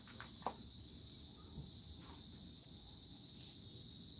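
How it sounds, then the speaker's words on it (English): Crickets chirp steadily in a quiet outdoor night setting, a continuous high-pitched trill that is faint and constant throughout, with a few soft thumps and no talking. "You love them crickets."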